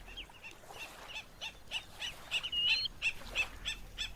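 Shorebird calls on the Uruguayan coast, such as a black-necked stilt feeding in shallow water, ring out as a rapid series of sharp, high chirps and yelps, growing busier and louder midway, with no talk.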